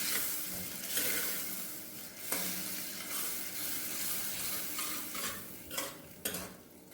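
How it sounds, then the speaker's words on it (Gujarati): Chana dal being stirred and mixed in a pan for Sindhi dal pakwan, with a steady soft scrape and light sizzle, a few louder spoon knocks against the metal standing out; no talking. "અને પ્રોપર મિક્સ કરી દઈશું."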